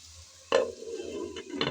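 Carrots and eggplant stirred and frying in a pan, a sharp scrape of the spatula followed by steady sizzling and a couple more stirring clatters, close and fairly loud.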